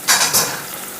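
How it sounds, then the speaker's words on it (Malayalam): Measured boiling water poured into a hot pot of natholi (anchovy) fish biriyani, giving a sharp hissing, sizzling burst that surges twice and then settles into a softer steady hiss, close and fairly loud. "വെള്ളം ഒഴിക്കട്ടെ."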